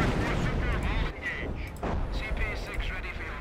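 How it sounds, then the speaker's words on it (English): An artillery barrage pounds away in Company of Heroes, a loud continuous roar of shell blasts and gunfire, with players talking over the top of it. "Yeah, I've got artillery coming down as well."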